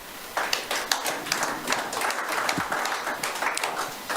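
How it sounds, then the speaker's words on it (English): An audience at a Laramie, Wyoming city government meeting claps after a public commenter, with scattered overlapping hand claps that build into a moderate, uneven patter and hold steady throughout. "clapping takes time, and we're trying to get as many people in as possible."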